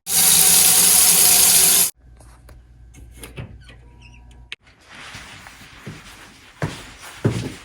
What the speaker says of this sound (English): First, we're going to start a pot of water.